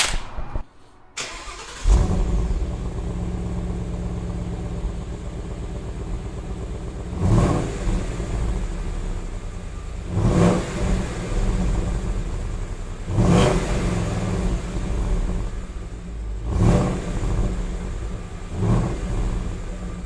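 A 2018 Ford Mustang GT with a Borla S-Type exhaust starts, then idles with a deep rumble and is revved hard about five times at regular intervals, loud and close.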